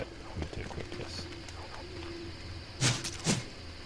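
A bird in the survival video game Don't Starve gives a couple of short cooing calls, with faint game ambience underneath.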